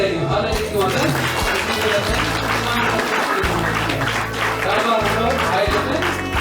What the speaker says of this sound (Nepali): ताली बजाइदिउँ